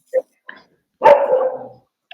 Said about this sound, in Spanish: Hola, está el perrito.